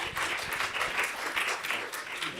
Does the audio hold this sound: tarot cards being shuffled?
no